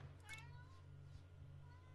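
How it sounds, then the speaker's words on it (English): A house cat gives a short, faint meow followed by a softer trailing call, heard over a constant low background hum. "My cat just came in and just meows. Is just meowing really loudly at me right now."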